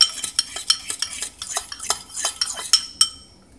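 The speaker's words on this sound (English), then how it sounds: "I'm going to stir it up." A utensil stirs whiskey into a spice mixture: quick, bright clinks and taps of metal against the bowl come in a rapid, uneven rhythm, close and clear, with a sharper final knock.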